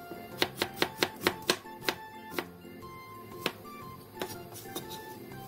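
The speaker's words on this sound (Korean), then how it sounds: "양파 2분의 1개를 채 썰어주세요." A knife slices half an onion into thin strips on a cutting board, a quick run of about seven crisp chops followed by a few scattered cuts, close and fairly quiet.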